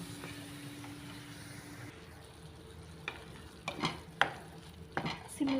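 Onions frying for a mushroom masala curry, a soft low sizzle with a spoon stirring and clinking against the pan in several distinct knocks that grow louder toward the end.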